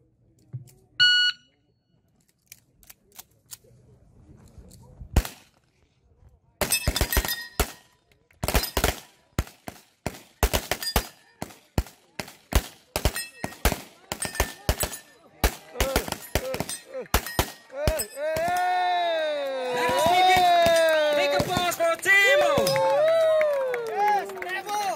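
Rapid strings of sharp gunshots crack in irregular bursts at a shooting competition, with a buzzer sounding early and a warbling alarm tone rising near the end.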